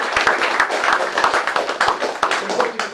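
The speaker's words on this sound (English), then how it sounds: "let's give a round of applause to the REA staff." Audience applause at a student kickoff meeting, a dense patter of many hands clapping steadily for about three seconds with no voices over it.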